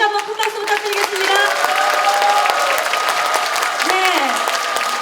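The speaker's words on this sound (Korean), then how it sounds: "열정적인 강의를 해주신 우리 정세균 총리에게 다시 한번 큰 박수 부탁드리겠습니다." Audience applause for former Prime Minister Chung Sye-kyun after his lecture at a Democratic Party event in Jungnang, Seoul: steady dense clapping from a large crowd with voices mixed in, sustained throughout.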